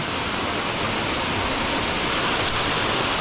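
Water rushes down the stone steps of Binalayan Falls in Cebu, Philippines, as a loud, steady, broadband roar of a jungle waterfall that fills the whole moment with no voices.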